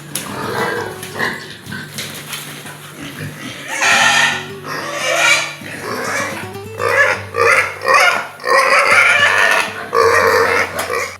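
Pigs grunting and oinking on a pig farm, a steady run of snorting calls throughout, with voices talking over parts of it.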